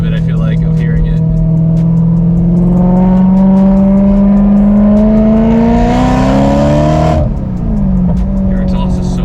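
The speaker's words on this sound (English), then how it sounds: "Your exhaust is so loud" Loud exhaust and engine drone from a supercharged BMW E92 M3 heard from inside the car, a steady low tone slowly climbing in pitch as it accelerates, then dropping off sharply near the end, with voices in the cabin.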